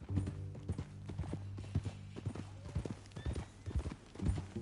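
Horse hooves clip-clop in Red Dead Redemption 2, a steady walking rhythm of soft thuds heard fairly faintly beneath low background music and some talk.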